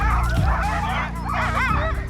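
A team of sled dogs in the Arctic barks and yelps excitedly, with overlapping high yips and whines over a steady low rumble, loud and close throughout.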